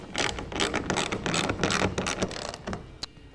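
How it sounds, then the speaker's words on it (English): A socket wrench ratchets in rapid clicking bursts while tightening the clamps of a TruXedo TruXport soft roll-up tonneau cover on a 2014 truck bed rail, close and loud with no talking. "we can then take our socket wrench and tighten it down"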